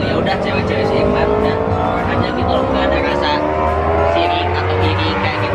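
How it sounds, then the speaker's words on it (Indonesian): A vehicle's exhaust roars outside, a rising and falling engine drone with some tire noise running continuously beneath a close indoor conversation between several people. "Ini suara knalpot bos"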